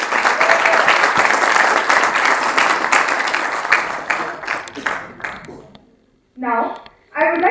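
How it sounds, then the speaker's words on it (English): A convocation ceremony audience applauds the director, loud sustained clapping that fades out, followed by a voice speaking. "Let's give a round of applause to our director, ma'am."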